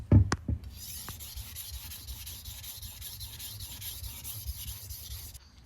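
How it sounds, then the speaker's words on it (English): Chef's knife being sharpened on a 1000 grit whetstone, a steady rhythmic rubbing and grinding of steel on stone that repeats in even back-and-forth strokes after a few brief knocks at the start, close and alone. "To sharpen this knife, I'm going to be using my whetstones. I start with 1000 grit stone to set in my angle"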